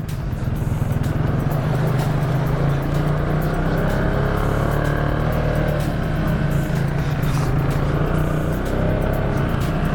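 Quad bike engine droning steadily while splashing through water on a trail route, heard close and continuous for several seconds with no talking.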